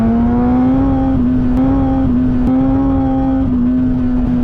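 A 2017 Kawasaki ZX10R sport bike with a flashed ECU and quick shifter holds a loud, steady high-pitched engine drone up close, with quick auto-blip downshift blips interrupting the tone every second or so.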